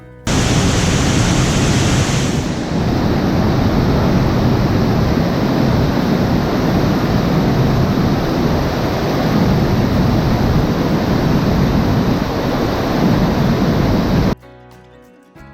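The thundering lower falls in the Canadian Rockies roar loudly and steadily from close range, a dense, even rush of water that holds for most of the span before cutting off near the end.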